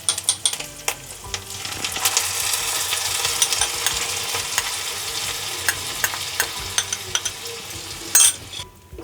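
Spice masala for egg tarka frying in oil as it is stirred, a continuous sizzle with scraping spoon strokes against the pan at an irregular pace, close and fairly loud.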